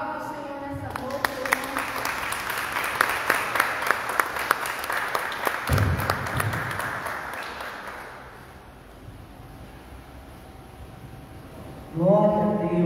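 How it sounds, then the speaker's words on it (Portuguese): A church congregation breaks into dense applause that swells for several seconds, then fades away before a voice speaks again near the end. "Aplauda o Senhor nessa noite."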